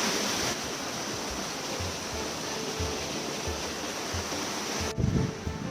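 A Norwegian waterfall pours in a steady, dense roar of rushing water that holds even and unbroken throughout, with no voices, just a brief rumble near the end.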